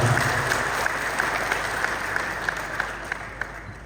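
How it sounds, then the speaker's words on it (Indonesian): A crowd applauds the police chief at an Indonesian public gathering on land-mafia enforcement, a steady, moderately loud wash of clapping that continues for several seconds. "Tepuk tangan juga untuk Pak Kapolres kita."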